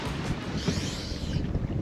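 A sailboat moves under sail off Mallorca in the Balearic Islands. Wind buffets the microphone over the rush of water against the hull, a steady, blustery wash with no voices.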